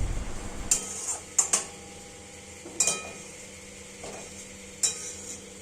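Potatoes frying and being stirred with spices in a pan, a soft steady sizzle broken by a few sharp clinks of a spoon against the metal, close and fairly quiet.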